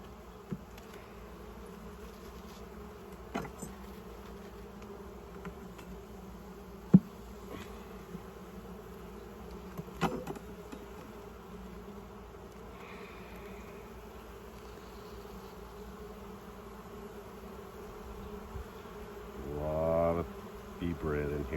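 Honeybees hum in an open hive being established on a new homestead, a soft, continuous buzz with scattered knocks and clicks from handling the frames and a louder buzzing swell near the end.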